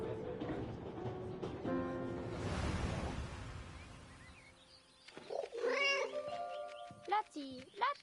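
A cat belonging to a German man meows in the 11-11 Memories Retold video game, a few drawn-out, rising and falling meows close by toward the end after a stretch of murmuring background and soft talk.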